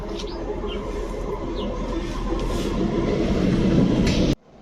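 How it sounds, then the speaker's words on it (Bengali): A Howrah local train runs along the tracks with a loud, continuous rumble and rattle that swells slightly, with faint bird calls, before it cuts off abruptly. "তো দেখো আমরা এখন ট্রেনে উঠে গেছি"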